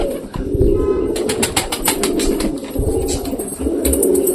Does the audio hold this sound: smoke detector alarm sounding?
no